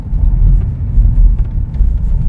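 Land Rover Defender OCTA driven over loose gravel in Octa mode with the transmission in sport, a steady loud low rumble of engine and tyres on crunching stones, no voices.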